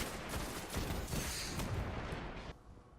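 Scout rifle fire with explosive rounds in the video game Destiny comes as a rapid, dense burst of shots and impacts, fairly faint overall, easing off near the end.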